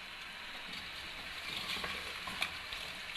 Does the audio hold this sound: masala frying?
yes